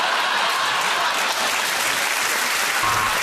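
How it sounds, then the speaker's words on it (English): Dense, steady applause from a studio audience at a consumer programme continues at constant strength throughout, with no voices over it. "give that round of applause to Ed Fernandez"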